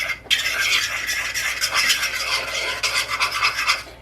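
Dry pancake ingredients with pink Himalayan salt are stirred together in a bowl, making a continuous close scraping, raspy rustle that pulses with each stroke.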